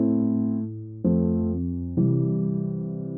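Sustained keyboard-like chords change three times, each new chord stepping up as the progression modulates to a new key near the end of a song; loud and clear, with no voices.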